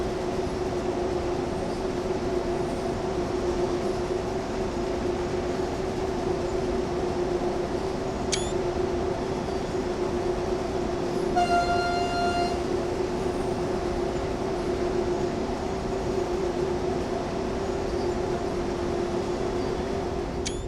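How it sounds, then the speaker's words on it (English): A passenger train passing in the Train Sim World 2020 game on the Main-Spessart Bahn, heard as a steady loud rolling rumble with a brief high squeal or horn-like tone partway through, from inside a moving cab. "It's another passenger train going by."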